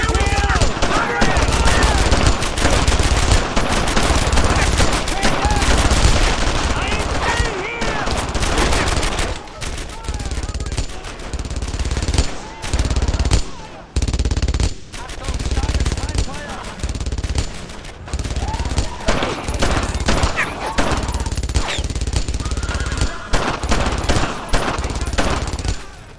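Sustained machine gun fire and overlapping rifle bursts in the World War II shooter Brothers in Arms, loud and dense throughout, thinning into scattered shots and bursts in the second half, with voices shouting orders over the gunfire.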